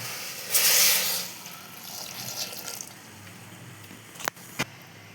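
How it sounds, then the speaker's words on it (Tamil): Water splashes from a tap into a cooking pot holding eggplant, drumstick and raw mango for boiling in sambar, a short loud rush early on, then softer trickling and two sharp metallic clinks near the end. "தண்ணி ஊற்றி விடணும் வேக வைக்கிறது"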